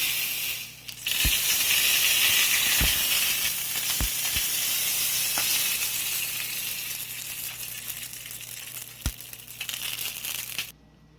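Hot tempering poured into coriander tomato chutney sets off a loud, steady sizzle and hiss right up close, with a few sharp crackles and pops scattered through it before it cuts off near the end.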